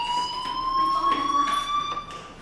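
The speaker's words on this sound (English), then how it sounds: "Hey, do you hear that fire alarm?" Fire alarm in the video game Life is Strange, a steady high electronic tone that holds continuously, with faint background sounds beneath it.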